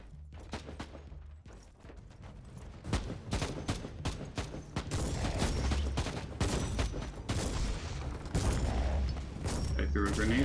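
Warhammer 40,000: Inquisitor Martyr combat: dense, continuous rapid gunfire and sharp impacts with booming blasts, including a grenade explosion, loud and sustained throughout the scene.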